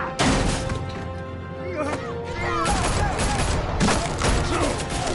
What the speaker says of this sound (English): Why is everybody always shooting at me?